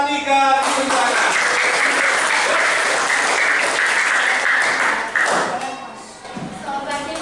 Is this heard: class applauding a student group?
yes